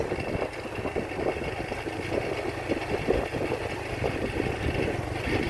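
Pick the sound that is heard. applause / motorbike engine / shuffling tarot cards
motorbike engine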